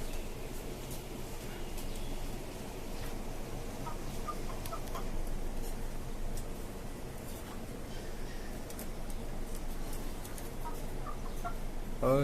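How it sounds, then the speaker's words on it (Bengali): On a five-storey rooftop chicken farm, a rooster gives faint, scattered clucks against a quiet, steady background. "এই হচ্ছে আমার মিস্টার হোয়াইট টাইগার মোরগ"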